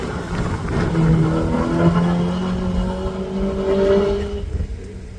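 A Mini Metro race car climbs the Craigantlet hillclimb course, its engine note rising steadily through the gears as it accelerates past, loud and continuous before fading away near the end.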